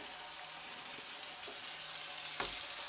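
Burger patties frying in a pan, a soft continuous sizzle and crackle with a few sharper spits and pops, fairly quiet and close.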